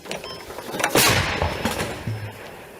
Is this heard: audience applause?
no